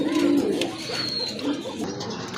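Fancy pigeons for sale cooing nearby, a few low throaty coos over a murmur of background voices and market noise.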